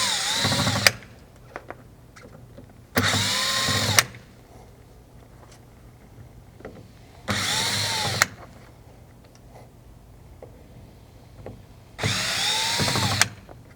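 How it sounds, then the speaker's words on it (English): A power drill backs out Phillips head screws from the key switch bracket on a HISUN 500-700cc UTV, four separate whirring bursts of about a second each with quiet gaps between, close and alone. "you would actually remove the 4 Phillip head screws that hold the key switch bracket"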